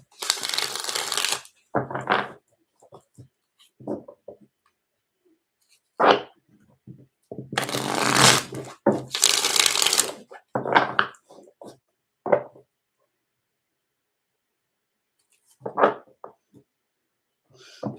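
A tarot card deck being shuffled by hand, heard close as several dense, rustling bursts of riffling of varying length, separated by short pauses and softer taps, with no talking.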